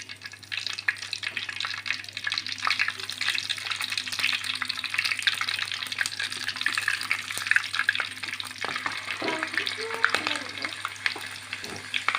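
Garam masala whole spices frying in hot coconut oil for beef kurma, giving a dense, continuous loud sizzle and crackle throughout, with a few light stirring knocks near the end and no voices.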